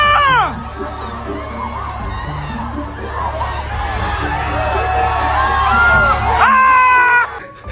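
Crowd of spectators at a marathon race cheering, shouting and whooping loudly and continuously, with high shrill yells rising at the start and again near the end.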